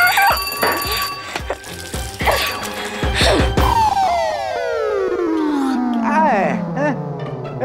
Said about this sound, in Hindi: एक तो 5 बजे का अलार्म लगा दिया